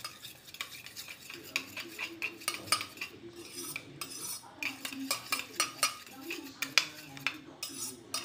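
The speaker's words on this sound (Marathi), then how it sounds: "आणि याला फेटून घ्यायचं" Eggs whisked with salt in a bowl for an omelette, a steady run of quick, close utensil taps and scrapes against the bowl with no voices.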